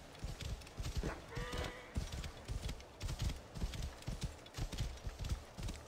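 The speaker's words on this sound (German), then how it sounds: "ich hab mein Pferd noch. Ich werde auch auf jeden Fall reiten" Horse hooves clip-clop in a steady, even gallop as a rider travels on horseback in the video game Assassin's Creed Origins, moderately quiet and continuous with no talking.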